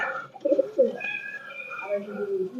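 Soft coos of Kuwaiti-imported Chinese pigeons repeat at close range, low and throaty, with faint chirps and some background murmuring.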